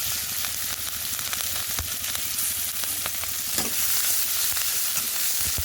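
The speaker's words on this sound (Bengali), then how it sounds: "মাছ ভাজার কড়াইতে দেবো একটু পেঁয়াজ কুচি, একটু রসুন থেতো করা, আর একটু আদা বাটা, সঙ্গে চেরা কাঁচা লঙ্কা" Chopped onion, crushed garlic, ginger paste and slit green chilies frying in a kadai first used for frying fish: a loud, continuous close sizzle with scattered crackles and the scrape of stirring, no voices.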